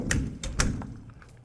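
A motorhome door with a crossbar support swings shut, giving a few close, hollow thuds and taps in quick succession with small knocks trailing off.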